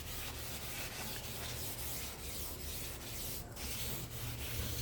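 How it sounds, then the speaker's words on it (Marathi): A gas stove is scrubbed by hand in a steady rhythm of rubbing strokes, close and fairly quiet, with no one talking. "गॅस वगैरे तर रोजच घासावे लागतात"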